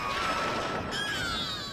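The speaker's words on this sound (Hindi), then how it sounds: "बिजली कड़क रही है।" A sharp crack of thunder bursts out and rumbles on, a loud broadband roar that holds steady before fading slightly.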